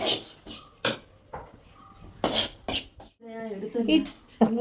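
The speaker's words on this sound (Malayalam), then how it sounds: "ഞാനൊന്ന് ചെറുതായിട്ടൊന്ന് ഇതൊന്ന് വഴറ്റുവേ." Prawn roast masala is sautéed in a pan in a Kerala-style kitchen, heard as intermittent metal clanks and scrapes of a spoon against the pan, close by, with a voice speaking between the strokes.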